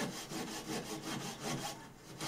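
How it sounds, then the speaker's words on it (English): A coping saw with a blunt blade works through wooden guitar templates in quick, even back-and-forth rasping strokes, close and fairly quiet. "I did manage to separate them eventually without cutting into"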